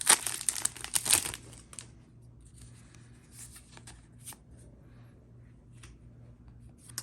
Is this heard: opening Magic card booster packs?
yes